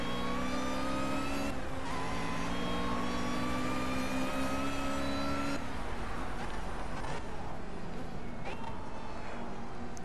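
An Ariel Atom 300 race car engine in the racing game Project CARS, at the Oulton Park circuit, drones and rises steadily in pitch as it accelerates, loud and continuous throughout.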